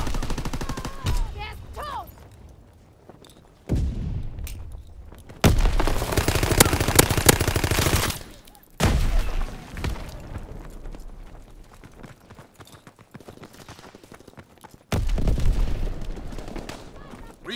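Gunfire in the World War II shooter Call of Duty: WWII: sharp single shots and sustained machine-gun bursts at varying distances, some loud and close, others fainter, with in-game voices speaking between them.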